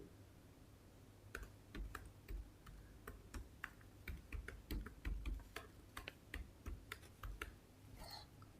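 A computer keyboard is typed on to enter a username and password, giving a steady series of crisp, close key taps spread across several seconds over a faint background hum, with no talking.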